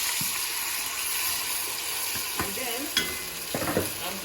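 Chicken-frying oil in a pot sizzles steadily as ingredients and cheese are added and stirred, and soft scrapes and knocks of the spoon break through near the end.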